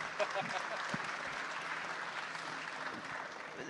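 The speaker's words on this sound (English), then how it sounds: "Give a round of applause. We could clap for that." Audience applause fills a podcast-style conversation on El Salvador and Bitcoin, a steady wash of many hands clapping with voices mixed in underneath throughout.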